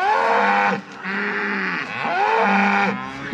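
Hungry farm cows moo loudly and close by in several long, overlapping bellows with brief pauses between them.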